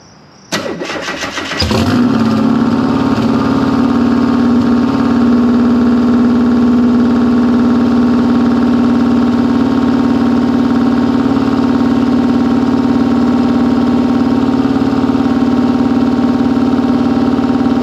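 A Subaru engine swapped into a 1973 VW Super Beetle cranks briefly, catches and then idles loudly and steadily up close, a low, even drone that runs on unchanged with no talking.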